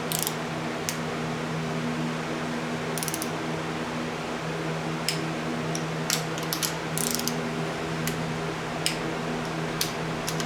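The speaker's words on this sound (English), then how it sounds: "We're going to rotate the engine around, and we're going to torque them to 23." A torque wrench ratchets on engine bolts of a Ford 302 V8, with sparse sharp clicks scattered over a steady mechanical hum, some in quick clusters.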